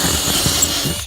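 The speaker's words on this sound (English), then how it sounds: "It does feel kind of wrong drilling holes in my boat." A power drill drilling holes in a boat whirs steadily at close range for about a second, then cuts off abruptly.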